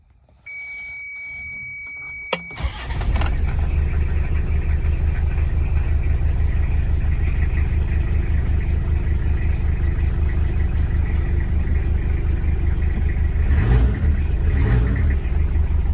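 A nearly new Toyota Hilux diesel engine with 10,000 km starts from cold after glow-plug warm-up. A brief beep precedes the crank, then the engine catches at once and settles into a loud, steady, rumbling idle.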